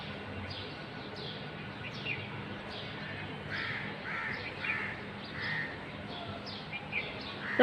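Repeated caws from crows at dawn scattered through the clip, set against a steady wash of other birdsong and background noise, moderately distant.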